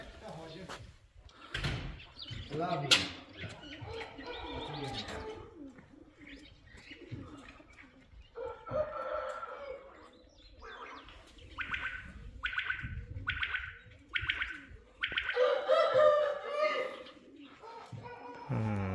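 Pigeons or doves coo and chirp outdoors in bursts, with repeated short calls standing out near the end, while someone talks intermittently throughout.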